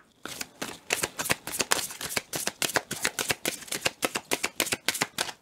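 An angel oracle card deck being shuffled by hand, a rapid run of crisp, close riffling slaps repeating at a steady brisk rhythm with no one talking.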